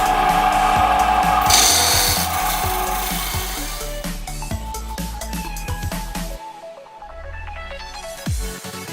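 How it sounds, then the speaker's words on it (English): A belt sander rasps steadily against a wooden gift box as it is flattened, giving a close, continuous gritty scraping with occasional knocks and shifts in pressure, then a short wind-down near the end. "I guess taking this to the belt sander and just flatten out all sides would be good"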